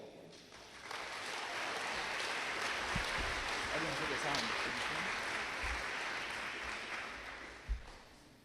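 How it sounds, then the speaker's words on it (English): Sustained applause from a crowd at a high school senior honors night, steady clapping that swells and holds for several seconds, with a voice speaking faintly underneath. "give these students a round of applause as I call them up here"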